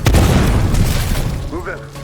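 A loud, close grenade blast in an action movie scene opens with a heavy boom that rolls on into a rumbling roar, and a voice can be heard shouting faintly near the end.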